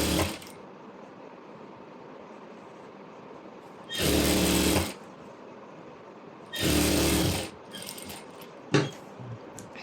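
A sewing machine stitches saree fabric in two short buzzing bursts of about a second each, separated by quiet pauses, with a light clack near the end.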